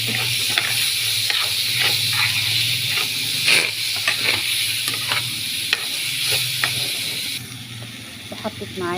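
Orzo pasta with chicken liver and hearts sautéing in a pan, with steady sizzling and frequent scraping stir strokes throughout, quite close, under low background music and occasional voice.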